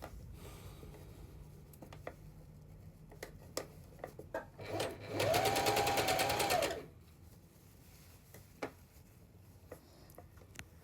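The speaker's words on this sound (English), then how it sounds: "now I go from where I reverse already and I continue to sew around the armpit" A sewing machine stitches an armhole facing around the underarm to the side seam, a steady two-second burst of rapid whirring in the middle of otherwise quiet sparse handling noises.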